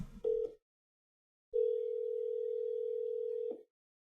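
Outgoing call ringback heard through a voice over IP client, a short tone burst followed by a single long steady tone in otherwise silent surroundings.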